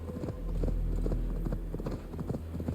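Horse hooves clip-clop steadily while riding in Assassin's Creed Valhalla, a rhythmic close trot over a low rumbling game soundscape.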